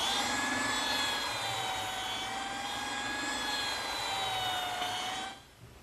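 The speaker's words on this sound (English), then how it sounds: "to smooth up the saw cuts from the jigsaw, I'm just using my small belt sander" A small belt sander smooths jigsaw cuts in a workshop, a loud continuous whine and rasp held steady for about five seconds before cutting off abruptly at the end.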